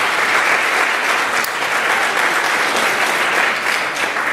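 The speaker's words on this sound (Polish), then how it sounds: "Wielkie brawa dla piosenki." A gala audience at a volunteering event applauds a song performed by a school ensemble, with dense, sustained clapping that stays loud throughout.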